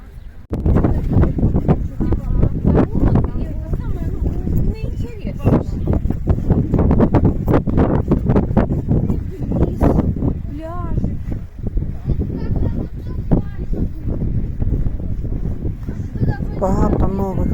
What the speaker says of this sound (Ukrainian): Бачите, вітер.